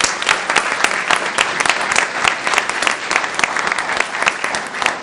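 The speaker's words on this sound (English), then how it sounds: "We applaud you for your efforts." Applause from the audience at a school board business meeting, steady and fairly loud clapping from many people sustained throughout, with no talking over it.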